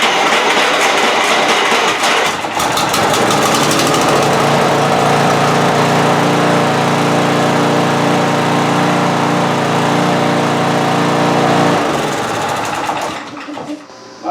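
A Toro TimeMaster lawn mower engine runs loud and steady close by, a continuous droning roar that holds for about twelve seconds before cutting off and winding down near the end.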